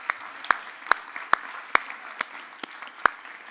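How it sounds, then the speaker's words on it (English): A conference audience claps in sparse, evenly spaced single claps at a tech talk event, crisp and moderately close with no voices. "please get up quickly and let's give a big round of applause for our audience"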